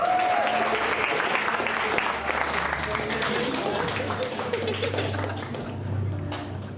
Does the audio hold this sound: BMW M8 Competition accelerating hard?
no